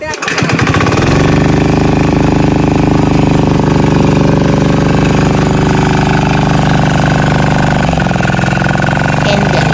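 A small engine-driven water pump motor at a 16-foot-deep well starts up, then runs loud and close with a harsh, rapid, steady chugging rattle that continues throughout.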